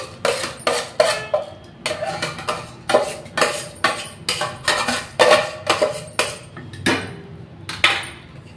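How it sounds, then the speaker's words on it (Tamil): Loud metallic clanks and scrapes come in a steady, repeated rhythm as a utensil strikes the pot while rice is added to cooked meat for a biryani. The sound is close, with no voices. "இப்போ அரிசி போட்டுக்கலாம்."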